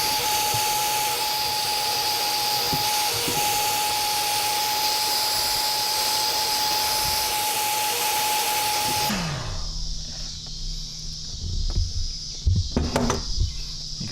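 A heat gun melts solder-seal wire connectors while an auxiliary fan is wired into an FJ80 Land Cruiser. Its loud, steady blowing hiss runs for about nine seconds, then cuts off, leaving quieter handling clicks and knocks.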